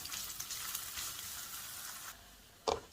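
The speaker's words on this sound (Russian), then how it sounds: "Теперь я начинаю обжаривать морковку." Chopped carrot and onion fry in a pan, giving a soft, steady sizzle with a louder crackle near the end, heard close up and quiet, with no talking.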